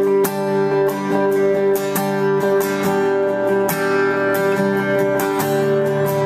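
An acoustic guitar strums the verse pattern of a worship song. The rhythm is even and sustained, with bright repeated chord hits over about six seconds, close and prominent.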